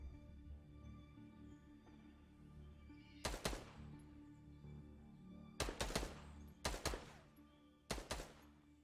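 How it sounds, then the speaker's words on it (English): Gunfire in Fortnite heard from a distance: four separate sharp shots or short bursts spaced a second or two apart, fairly faint over a low background hum. "See, he's shooting because he don't know where I am."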